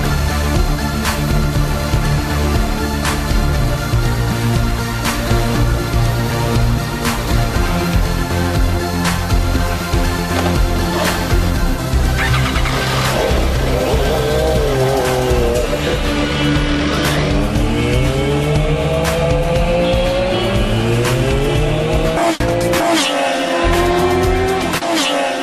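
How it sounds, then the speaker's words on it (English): An MV Agusta F4 superbike is tested on a racetrack, its engine holding a loud sustained whine that climbs and falls through gear changes as it accelerates and passes, with music running underneath throughout. "The race is on to test the bike on the track."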